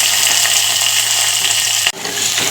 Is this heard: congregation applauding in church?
no